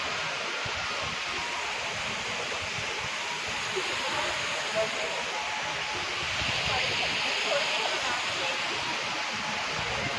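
A forest waterfall rushes as a steady, even wash of falling water, moderately loud and unbroken throughout, with no clear speech.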